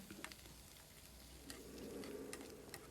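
Canned, watery mushrooms fry in a pan with a steady sizzle that swells toward the end, broken by scattered sharp clicks and scrapes of stirring.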